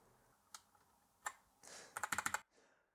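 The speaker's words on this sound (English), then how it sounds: "And then we can put the Windows keycap straight on there." A double-shot Windows keycap pressed onto a NuPhy Air75 V2 low-profile wireless mechanical keyboard: a couple of sharp isolated clicks, then a rapid burst of about six close, crisp clacks before silence.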